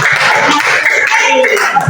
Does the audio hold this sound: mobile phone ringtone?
no